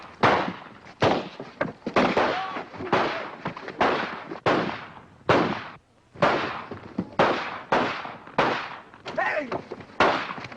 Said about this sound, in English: As a cure for flinching, Sergeant, I suggest a few rounds of rapid fire.